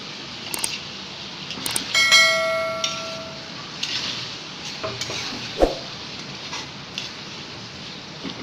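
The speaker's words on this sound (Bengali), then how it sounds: "মাছগুলো দিয়ে আমি আরও 3 মিনিটের মতো কষিয়ে নেব, যাতে মাছের মধ্যে মশলাগুলো খুব ভালোভাবে ঢুকে যায়।" Fish pieces cooking in a tomato masala in a pan, with a steady soft sizzle broken by scattered clinks and scrapes of a utensil against the pan, close by and with no talk.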